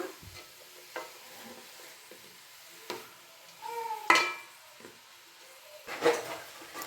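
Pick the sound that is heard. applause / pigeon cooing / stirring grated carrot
stirring grated carrot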